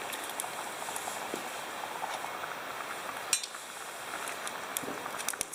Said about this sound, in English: I wouldn't say it was a super hard boil